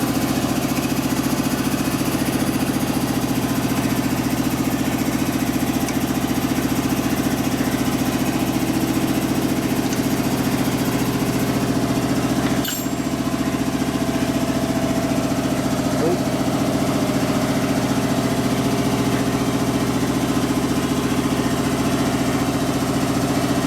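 A 1967 Harley-Davidson 74ci shovelhead motorcycle engine idles close by in a continuous, even rumble that runs unbroken and loud throughout, with no talk over it.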